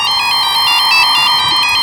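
A mobile phone ringtone plays loudly, a repeating electronic melody of bright tones with no voices.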